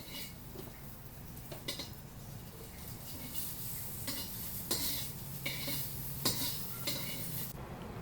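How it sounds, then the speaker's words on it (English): Pork back fat renders into lard in a smoking-hot wok with a steady low sizzle. Intermittent clinks and scrapes of a utensil against the metal sound over it, with no talk. "We'll heat up the wok until smoking, and then add in some pork fat back and let the lard render out"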